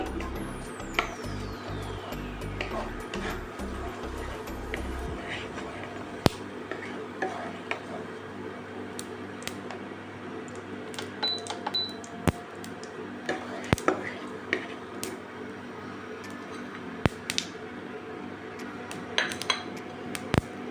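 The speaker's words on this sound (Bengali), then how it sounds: "জিরে জিরেটাকে হালকা একটু ফ্রাই করে নিতে হবে" Cumin seeds frying lightly in a pan make a soft, steady sizzle. Sharp metallic clinks and taps of utensils against cookware break through it now and then, with a brief low rhythmic clatter at the start.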